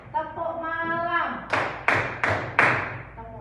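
Group clapping in a classroom rhythm game, four sharp loud claps in a steady beat following a sung or chanted voice, then quiet talk resumes.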